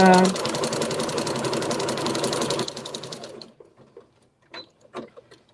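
A sewing machine back-stitches on a quilt with a fast, loud rattling hum, stopping abruptly partway through, followed by brief quiet handling sounds and someone speaking.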